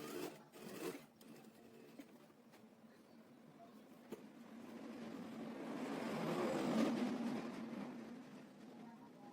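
A sewing machine stitches a narrow folded hem on a shirt, a soft mechanical hum that swells in the second half, faint and close, with a few light clicks early on and no speech.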